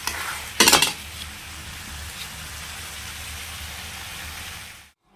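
Chicken meat simmering in a pot on a home stove, a steady soft bubbling hiss throughout after a brief louder clatter near the start, fading out at the end.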